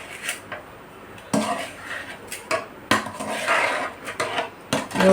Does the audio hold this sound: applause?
no